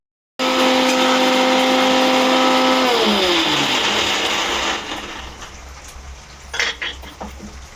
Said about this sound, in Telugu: ఇవి కూడా ఇక ఇందులో వేసుకొని మిక్సీలో కొంచెం మెత్తగా ఆడుకుంటాను